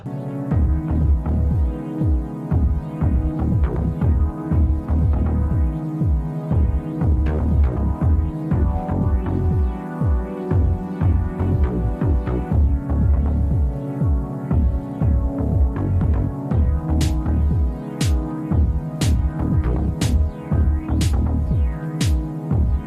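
A sewing machine stitches close to the edge of a bandanna baby bib, its motor throbbing in a steady, loud, fast rhythm up close, with a few sharp clicks near the end and no talking.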